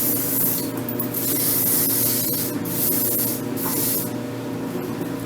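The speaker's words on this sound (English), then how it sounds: "So I'm just spraying that" Continuous spray of a strongly scented hair product being misted onto wavy, beachy curls, a loud close hiss in a few long bursts with brief dips between them, with no talking.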